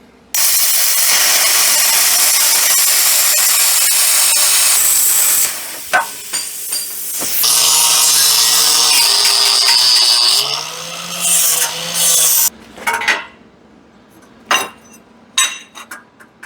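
Steel is cut out of a rusty car frame, a loud continuous hissing roar like a plasma cutter or torch that holds steady for about six seconds, shifts and wavers, then breaks off into scattered clanks and quieter bursts.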